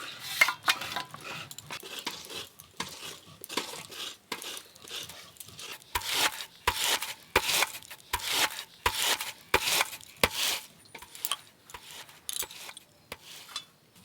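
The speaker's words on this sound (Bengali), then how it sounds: "এবার ছড়ে নেব তাল" Ripe palm fruit pulp is scraped by hand in repeated rhythmic strokes, each a wet rasping swipe with a faint knock against a vessel, close and steady with no speech.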